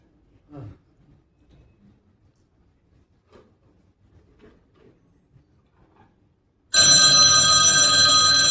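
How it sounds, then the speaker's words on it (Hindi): After several seconds of near silence with faint, scattered movements, a telephone suddenly starts ringing loudly and keeps ringing without pause. "अरे लो लो आ गया प्रीति का फोन"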